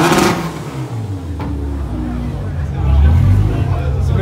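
Modified Honda Civic with a stainless exhaust and silencer revving at a track day car meet, a loud deep engine roar that swells toward the end, with people talking nearby.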